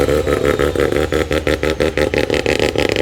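Toyota Supra engine revving hard through a loud aftermarket exhaust, a dense, continuous throaty roar with rapid pulsing throttle blips, close and dominant for the whole stretch with no talk over it.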